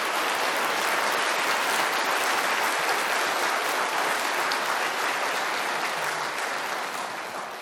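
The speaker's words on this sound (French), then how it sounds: "Je crois que ces applaudissements auraient fortement réjoui Lalande" Sustained audience applause at a public lecture on dark matter at a French college, dense steady clapping from a large hall crowd that holds for the whole stretch and eases slightly near the end, no voices over it.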